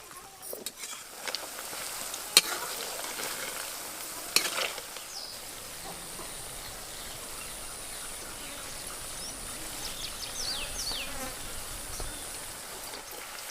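Okra and peanuts fry in a pan with a steady, fairly quiet sizzle. A few sharp clicks and scrapes of stirring come early on, then the frying hiss settles into an even, unbroken texture.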